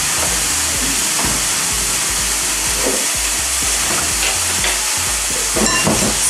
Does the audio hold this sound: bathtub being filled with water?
no